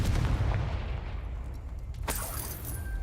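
A Confringo blasting-spell explosion in Hogwarts Legacy: a loud, close, rumbling boom that decays over a few seconds, followed by a sharp crack near the end.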